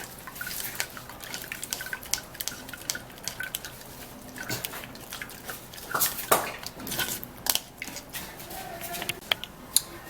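Homemade juice of watermelon, beetroot, onion and carrot drips through a sieve, giving soft, irregular patters and small splashes that keep going for ten seconds, quiet and close, with faint kitchen noise underneath.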